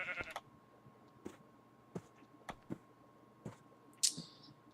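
Sheep in a Minecraft-style video game bleat once or twice at a low level amid scattered sharp clicks and taps, with a faint steady background hum.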